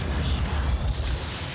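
Explosions from grenades in the game Doom 3 rumble low and dense throughout, a continuous heavy boom without clear separate blasts.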